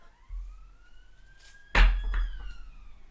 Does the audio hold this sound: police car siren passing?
yes